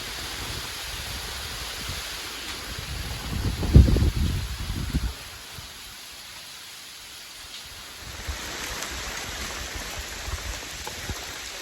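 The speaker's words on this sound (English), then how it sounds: "The hail's coming in the hole." Hail falls on a log cabin with a small wood stove, a continuous rushing patter with a heavier thumping burst near the middle before easing to a softer, steady hiss.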